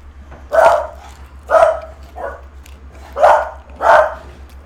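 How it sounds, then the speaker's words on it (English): Two dogs barking outside a house as they are walked past an open window, several separate barks spaced about a second apart, moderately close and clear with no talking. "There's 2 dogs being walked in front of our house."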